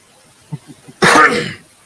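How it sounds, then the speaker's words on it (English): A single heavy, harsh cough bursts out loud and close for about half a second, following a few faint soft throat sounds, then stops. "Who's coughing their guts out?"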